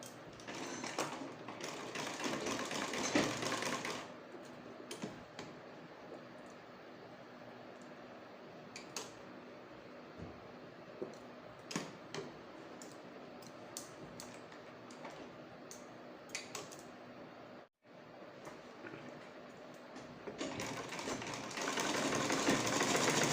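A sewing machine stitches around a square neckline on a garment in quiet, short bursts of fast ticking, stopping and restarting, with louder runs at the start and end.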